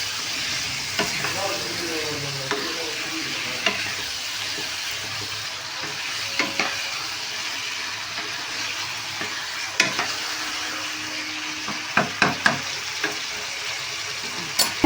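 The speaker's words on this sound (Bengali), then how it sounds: "দেওয়ার পর ভালো করে কষতে হবে যাতে কোনো গন্ধ না থাকে, কাঁচা মশলার গন্ধ না থাকে।" Chicken pieces and spices fry and get stirred in a pan for spicy chilli chicken gravy, a steady broadband sizzle with scattered scraping clicks of the spatula, close and moderately loud, growing busier near the end.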